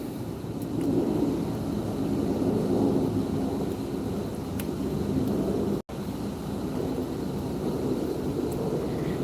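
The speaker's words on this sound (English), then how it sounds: "there's a plane going by" Airplane passing overhead, a low continuous rumble that holds steady at moderate distance, with a faint hiss above it and a momentary dropout partway through.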